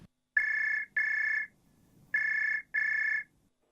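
A telephone rings at the Survivors Manchester helpline, two double rings, each a pair of bright electronic trills with a pause between the pairs, close and clear against quiet.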